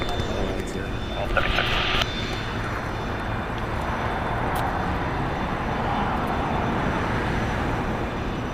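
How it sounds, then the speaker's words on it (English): A 12-year-old Cessna Citation private jet taxis at LAX on the south side, arriving from Hayward, as a low, steady engine rumble with voices talking over it. "Got a little private jet taxiing our way here on the south."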